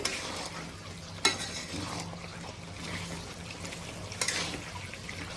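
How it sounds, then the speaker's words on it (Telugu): Drumstick and chicken curry is stirred in a pan, with soft sizzling and two sharp clinks of the spoon against the pan. "ఒకసారి కలిపేసుకుందాము"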